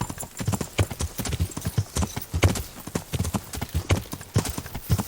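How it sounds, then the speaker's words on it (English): Horse hooves clip-clopping in a quick, even rhythm, loud and close, continuing steadily throughout, from the video game Kingdom Come: Deliverance. "Whose horse is that?"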